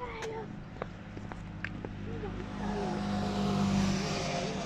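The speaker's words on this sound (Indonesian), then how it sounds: "Ana wong nunggang motor siji." A motorbike passes along a quiet street on an early-morning walk in Germany, its engine hum swelling gradually from moderate to louder over a steady background with faint, brief sounds.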